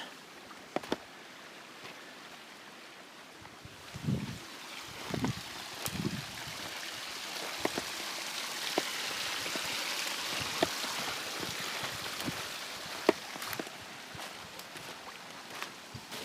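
Water pours and roars through a flume, spilling over the sides where it is backed up, a steady rushing hiss with occasional splashes and knocks.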